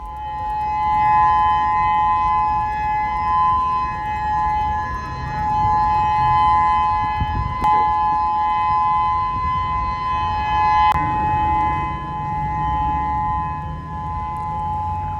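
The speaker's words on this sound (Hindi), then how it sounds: "सायरन की आवाज गूंज रही है।" Tsunami alert civil defense sirens wail steadily in the distance in Honolulu, Hawaii, a sustained droning tone holding over a faint background hum.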